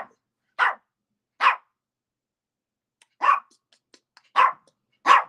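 A dog barks in five separate sharp bursts, close and loud, with brief pauses between them and near silence in the gaps.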